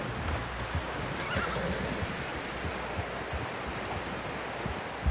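A horse whinnies in the Red Dead Redemption 2 video game amid a steady windy, surf-like wash, with soft hoof clops scattered throughout and no talking.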